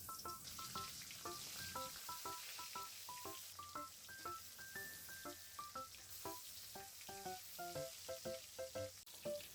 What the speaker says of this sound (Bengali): তো রান্নার জন্য প্রথমে কড়াইয়ে পরিমাণ মতো তেল দিয়ে মাছগুলো ভেজে নেব